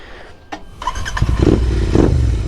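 A motorcycle fitted with a raised aftermarket handlebar starts up and revs, with a couple of sharp clicks followed by a swelling engine roar in two surges.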